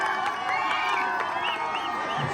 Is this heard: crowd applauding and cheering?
yes